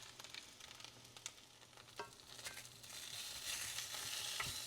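Chicken cooking in an iron skillet gives a faint, steady sizzle with occasional soft pops and scrapes, growing slightly louder toward the end.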